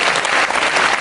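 Loud audience clapping after a Rajasthani song at a Haryanvi folk performance, a short dense burst of applause from a crowd close by.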